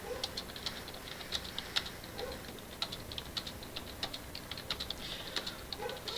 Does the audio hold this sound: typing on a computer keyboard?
yes